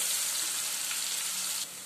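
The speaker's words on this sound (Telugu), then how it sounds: "జస్ట్ ఆనియన్ ఫ్రై అయితే సరిపోతుంది" Onions sizzle and fry steadily in a hot pan, a continuous dense hiss that stays fairly loud and then drops slightly near the end, with no voices.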